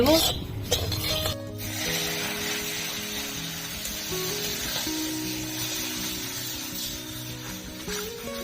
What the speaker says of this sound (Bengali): বন্ধুরা সবসময় নেড়ে যেতে হবে নাহলে নিচে ধরে যাবে